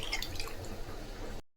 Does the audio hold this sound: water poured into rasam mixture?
yes